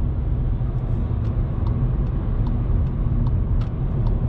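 A 2019 Volkswagen Polo 1.0 TSI drives in fourth gear at about 80 km/h and 3000 RPM, giving a steady, loud low engine drone and road rumble heard from inside the cabin, without talk.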